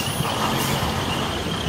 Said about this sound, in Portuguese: Olha como é que é o trânsito, ó.